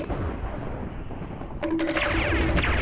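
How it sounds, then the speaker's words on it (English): Deep rumbling Minecraft explosions and thunder roll together in a dense, loud wash, with a sharper burst of crackling impacts partway through. "There's explosions, there's thunder, there's a lot of stuff."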